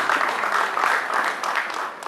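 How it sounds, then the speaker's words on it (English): Resounding applause from an audience welcoming a speaker at a formal gathering, a dense continuous roar of clapping heard fairly close and loud throughout. "I'd like that we please welcome him with a resounding applause"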